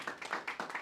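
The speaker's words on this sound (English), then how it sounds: "So let's give him a round of applause." A small lecture-hall audience claps for a guest speaker at a university talk; a short, quiet burst of scattered hand claps in a loose rhythm, with no voices over it.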